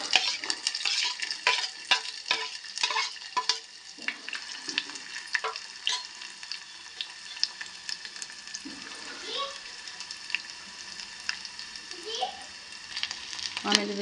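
Onion and curry leaves frying in oil in a pan, a busy crackling sizzle with frequent sharp pops and stirring clatter, close up, briefly under a speaking voice.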